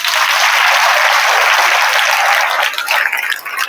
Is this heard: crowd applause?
yes